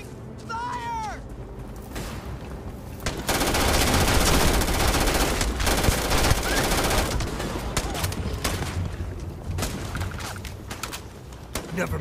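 Crew gunfire in the Starfield video game: sustained, dense automatic fire and shots erupt loudly after a short quieter opening and carry on for several seconds, with characters shouting over the battle.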